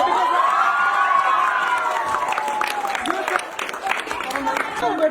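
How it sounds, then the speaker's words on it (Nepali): A cinema audience after a Nepali film screening breaks into sustained applause mixed with cheering and shouts, loud and dense, with voices calling out over the clapping. "मन परेको नै हो भने सबैले ताली बजाइदिनु हुन्छ"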